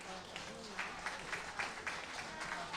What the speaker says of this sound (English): Soaking in the adoration of the Paulsboro crowd here tonight at Evolution of Champions.